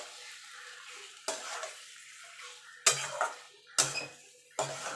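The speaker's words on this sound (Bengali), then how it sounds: "মাংসটা দিয়ে এবার মশলার সঙ্গে ভালো করে কষিয়ে দেবো।" Chicken stir-fried with spices in a pan over low flame, with a soft sizzle broken by several sharp scraping clatters of a spatula against the pan, close and distinct.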